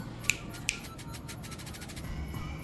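Two crisp finger snaps, close and distinct, about half a second apart, then quiet room tone.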